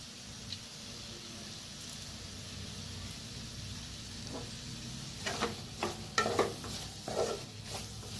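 Potato bhaji stirred in a pan with lemon juice just added, a soft steady scraping and faint sizzle under a constant hiss, with a few louder clinks and scrapes toward the end.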